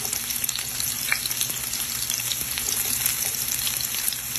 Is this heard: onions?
yes